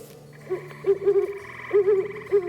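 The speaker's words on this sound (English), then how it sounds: "you can actually hear the great horned owl" A recorded great horned owl call played from a small speaker in a Michigan animal exhibit, a series of deep, clear hoots in spaced groups, fairly loud and close, with no talking over it.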